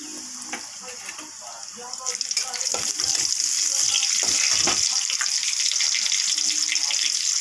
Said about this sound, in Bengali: অল্প জিরা ফোড়ন দিয়ে দিচ্ছি দুটো তেজপাতা গোটা গরম মশলা থেতো করে তেলে দিয়ে দিচ্ছি